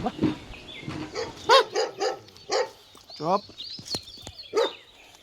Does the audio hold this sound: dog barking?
yes